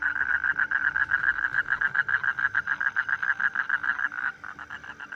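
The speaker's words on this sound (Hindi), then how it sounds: "भाई ये एक तो मेंढकों की आवाज़ आ रही है" Frogs croak in a fast, steady pulsing chorus, loud and continuous, easing off near the end.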